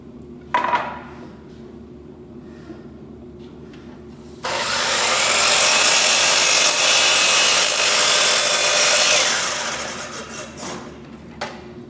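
A wooden board is sawn roughly into table legs, a loud sustained rasping cut lasting several seconds after a quieter lead-in, then tapering off.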